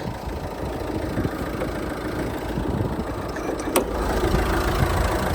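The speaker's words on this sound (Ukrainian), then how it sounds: "двигун працює рівнюсінько, тихесенько, як на холодну, так на гарячу, без посторонніх шумів." A 2014 Fiat Freemont 2.0 diesel with automatic transmission idles steadily nearby, a low even rumble with one brief click partway through and no voices.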